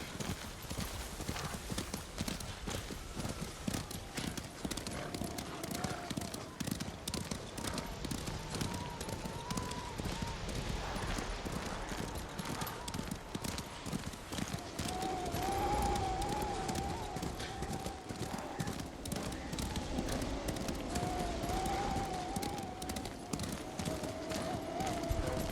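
Horse hooves clip-clop steadily during a ride in the video game Ghost of Tsushima, a brisk rhythmic gait continuing throughout with occasional whinnies and game voices talking over it.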